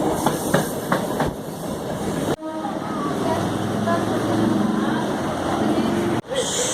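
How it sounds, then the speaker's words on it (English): A Chennai MRTS commuter train rolls along the rails with a steady rumble, rhythmic clickety-clack and hiss, loud and continuous with abrupt shifts in tone, and a voice speaks faintly over it at times. "we have completed our MRTS train ride"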